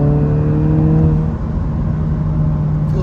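A 2023 Honda Civic Si pulls steadily under acceleration on a test drive, its engine drone loud and constant from inside the cabin with a faint whir over it.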